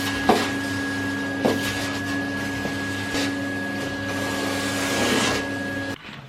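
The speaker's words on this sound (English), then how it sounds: "so I'm just going to hoover that up real quick." A vacuum cleaner hoovers a floor indoors, giving a steady droning whine with a few bumps and knocks as it moves, then cutting off near the end.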